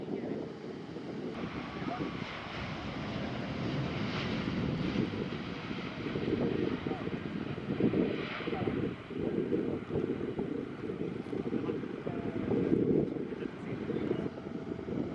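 A distant airliner's jet engine roars steadily on takeoff at Santiago de Chile airport, with wind buffeting the microphone, a broad rumbling drone that swells and fades slightly.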